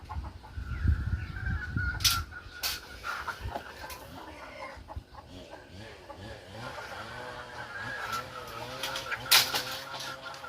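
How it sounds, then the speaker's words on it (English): Chickens cluck and squawk on a lettuce farm in the Philippines, with several close, irregular clucks and short calls, and a person speaks briefly between them. "Get out of there, chicken."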